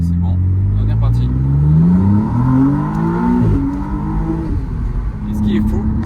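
A McLaren Artura hybrid pulls away down a steep slope, its engine note rising and shifting loud and close, with a voice talking over it throughout.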